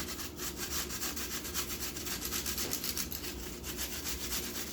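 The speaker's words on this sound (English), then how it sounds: "you should really use a grater. Grate the apple. Grate this apple." An apple is grated by hand on a metal grater, a steady rasping scrape that runs continuously at close range with no talking.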